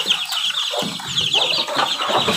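Chicks and chickens, some of them sick, cluck and peep continuously at close range, with overlapping high cheeps and lower clucks forming a busy, steady chorus.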